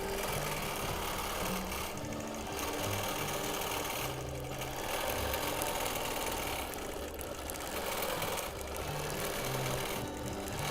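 A sewing machine hums and rattles continuously while free motion quilting a mod boxes pattern, a steady mechanical whir that swells and eases slightly without pause.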